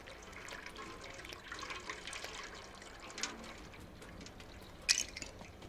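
Faint running water in the video game Stray, a soft steady splashing trickle with a few brief louder spurts, heard quietly in the background.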